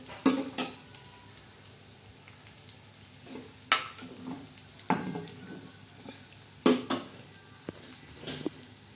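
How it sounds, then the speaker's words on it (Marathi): Dried fish (sukat) roasting in a pan for a spicy brinjal and potato dish, a soft continuous sizzle broken by a few sharp scrapes and clinks of a spoon stirring against the metal, close and without talk. "सुकट असं लालसर मस्त भाजून घ्यायचं।"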